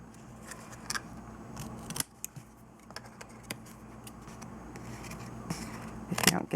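Scissors trim a small paper card for a 3D pop-up tool box craft, giving scattered faint snips and clicks in a quiet room.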